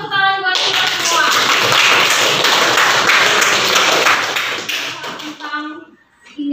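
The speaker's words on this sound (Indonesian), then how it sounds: "kalau benar tepuk tangan buat kita semua" A school science class claps hands together in a loud, dense round lasting several seconds, then fading out, with a teacher's voice speaking just before and after.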